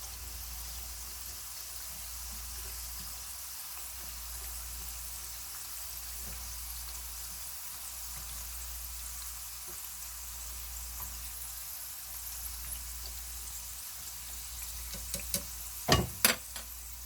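Soft, continuous bubbling and crackling of oil deep-frying tofu snacks, quiet and even, with a few sharper clicks and taps near the end.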